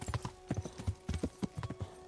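Horse hooves clip-clop in the video game Kingdom Come: Deliverance, a quick, even run of soft hollow thuds at a trotting rhythm, faint and with no talk.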